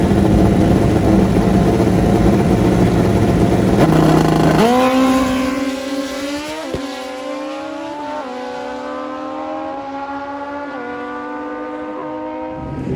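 A motorcycle engine revs loudly and close, holding a dense roar before shifting into a series of rising and falling revving sweeps that gradually ease off.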